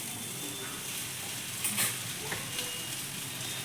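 Akki rotti, a rice flatbread, roasts on a hot griddle without oil with a faint, steady dry hiss. A brief louder crackle rises in the middle, with no talk.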